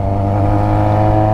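A Yamaha Fazer 600 (FZ6) with an MTG exhaust pipe revs hard, a loud, close, sustained engine roar with a dense steady tone and no talk.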